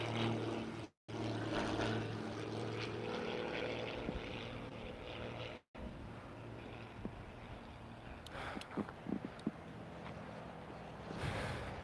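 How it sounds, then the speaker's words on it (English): An old-school propeller plane passes overhead, heard as a faint steady engine drone that lingers in the background outdoors, with light sounds nearby and no clear speech. "That's a nice sounding, a nice looking plane. It's a little old school, but it's nice."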